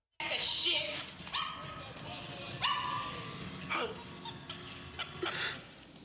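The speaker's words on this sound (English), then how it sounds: "She got that dog in a choke." A dog in a film scene yelps and whimpers while being held in a choke, with sharp, strained cries and whines rising over tense background sound and indistinct voices.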